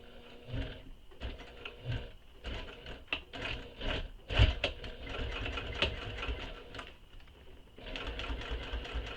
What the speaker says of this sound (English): Nothing is going to be in my way as I'm stitching.